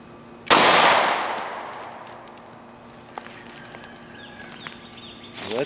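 A single sharp gunshot from a .40 S&W pistol firing a Federal Hydra-Shok 135-grain round into ballistic gel behind denim, a loud close crack with a long echoing decay, followed by faint clicks and handling noises.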